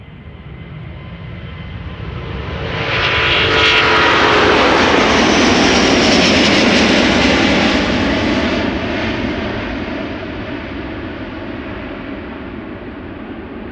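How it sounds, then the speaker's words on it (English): An Airbus A330neo airliner departs Amsterdam Schiphol with a broad jet roar that swells to a loud peak midway and then slowly fades as it passes. No voices are heard. "First up, this A330neo."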